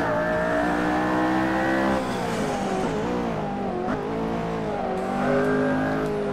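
McLaren Senna engine revving at Spa in the racing game Assetto Corsa, a loud high engine note climbing through gears, dropping sharply under braking with a brief tire squeal, then rising again.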